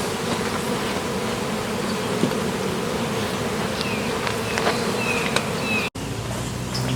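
Bees swarm around a swarm trap outdoors, giving a steady dense buzz throughout, with individual bees flying close past and a brief dropout near the end.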